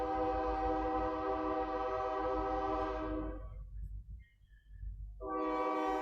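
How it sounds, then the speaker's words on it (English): Train passing close to a house with a long, loud horn blast that stops, falls to near quiet, then sounds again, heard through a home computer microphone during a Zoom lecture. "that train is at my house"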